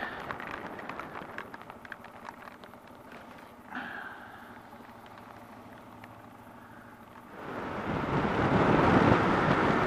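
Wind roars and buffets against a BMW motorcycle riding through high winds and rain, a steady rushing noise that swells much louder toward the end.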